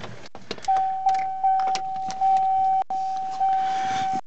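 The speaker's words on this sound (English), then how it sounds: "Turn the ignition on." A key turns in the ignition of a Riviera, with light key jingles and clicks over a steady electronic chime tone that repeats in long, evenly broken stretches.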